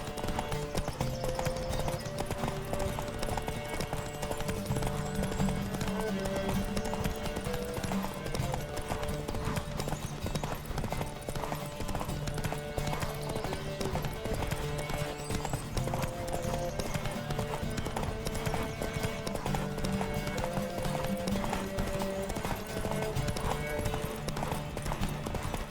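Horse galloping in The Witcher 3 during a race, a fast rhythmic clip-clop of hooves running steadily throughout, fairly close and continuous, with occasional speech over it.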